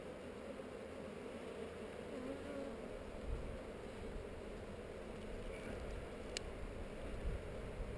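Honey bees buzz steadily over a hive frame in heather country, a dense continuous drone with no talk over it and only a few faint brief sounds passing.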